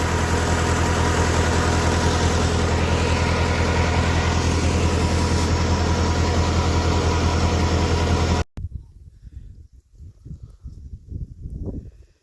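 A tractor PTO-driven 4x3 high-head water pump runs with a loud, steady engine drone, then cuts off abruptly, leaving quieter, uneven rumbling and noise.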